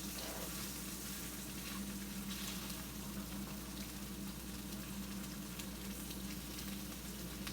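Pieces fry in hot butter with a continuous, even sizzle and crackle, a low hum running underneath and no voices.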